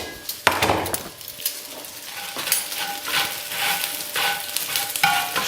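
Potatoes and onions frying in a pan, a steady close sizzle with occasional stirring scrapes and clatters throughout, no talking.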